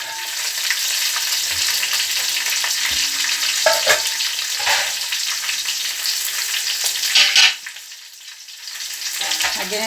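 Chopped onions and coriander leaves fry in a hot pan for supper, a dense continuous sizzle with scraping stirs and clinks of a utensil close by.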